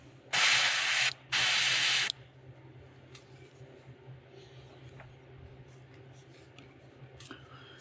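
An airbrush sprays paint onto a fishing lure in two loud, hissing bursts of about a second each, followed by quieter handling sounds and faint background noise.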